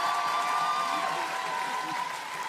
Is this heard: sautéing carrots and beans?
no